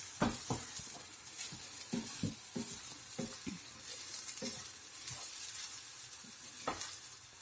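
Carrots frying in a pan for gajar halwa, a soft steady sizzle punctuated by frequent quick stirring scrapes of a spoon against the pan.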